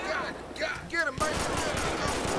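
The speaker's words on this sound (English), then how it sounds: "Shots fired. Shots fired." Gunshots in GTA V during a sheriff's patrol near Sandy Shores: a rapid string of sharp shots in the second half, after brief voice sounds and whistling tones.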